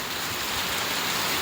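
Steady rain falling outdoors by a vegetable market, a dense even hiss of drops with no breaks, fairly loud and close, no voices.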